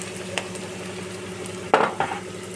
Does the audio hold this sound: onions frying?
yes